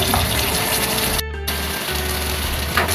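Water poured into a cooking pot for a curry broth: a steady, loud rushing stream with a brief break partway through before it resumes.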